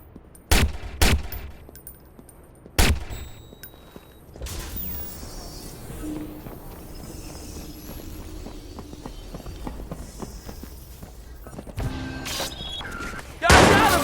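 Sniper gunfire in the video game Watch Dogs, a few sharp loud cracks spaced apart among clicking mechanisms and in-game ambience, with a final close burst at the end.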